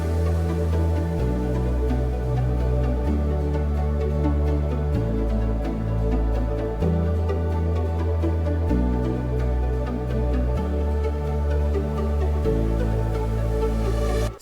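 Electronic music breakdown built from a sustained synth pad, guitar, airy ambience and a plucked synth line, playing loud and continuous with chords shifting every couple of seconds and no drums.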